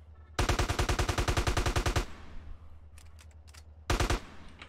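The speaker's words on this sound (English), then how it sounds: "this fucking K spits out loads of rounds" Automatic AK rifle fire in GTA San Andreas: a loud, rapid burst of evenly spaced shots lasting over a second, a short pause with faint clicks, then another quick burst.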